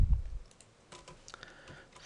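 Spreadsheet formula being typed on a computer keyboard, a quick run of soft, close key clicks in an uneven rhythm with no talking.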